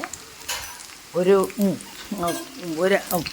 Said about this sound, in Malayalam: വറ്റൽമുളകും ചേർത്ത് വറ്റൽമുളകൊന്ന് മൂത്ത് കഴിയുമ്പോൾ